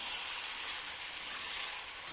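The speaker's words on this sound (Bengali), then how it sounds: "আবারও আমি একটু কষিয়ে নেব," Meat and potatoes frying in hot oil with chili powder and spices, a steady broadband sizzle that stays loud and constant throughout, with no voices.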